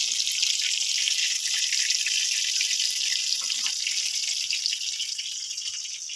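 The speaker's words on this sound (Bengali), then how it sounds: "এই দেখো মাছ ভাজা হচ্ছে" Fish pieces fry in a pan of oil with a constant bright, hissing sizzle, close and steady throughout, crackling lightly without pause.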